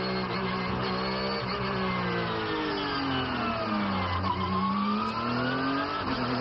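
Porsche Carrera Cup race car on a formation lap at a 2022 Asia round, engine note sweeping up and down through gear changes, loud and continuous with a hint of tire squeal.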